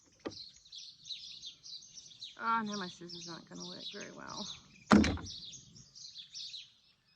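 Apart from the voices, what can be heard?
birds singing outdoors after rain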